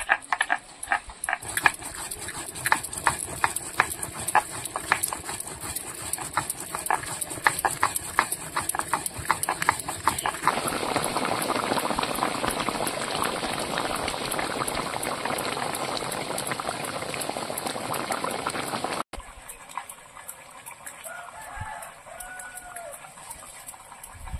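A spicy Bengali curry of river vola bhetki fish simmers in a pot, giving a continuous, moderately loud bubbling crackle that turns quieter and thinner near the end.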